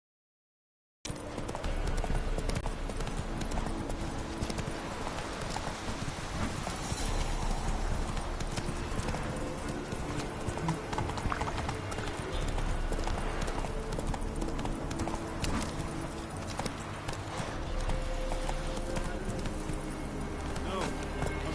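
In The Witcher 3, the horse Roach trots with a continuous, even clip-clop of hooves over dense game ambience and music, close and fairly loud throughout.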